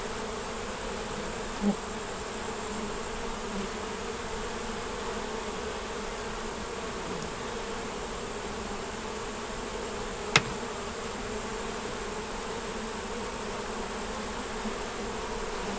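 Honey bees buzz steadily around an open hive during an inspection, a dense continuous drone close by with a couple of faint knocks.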